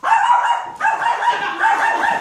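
A dog barks and yips continuously at close range, loud and sustained with a brief break midway, no talking over it.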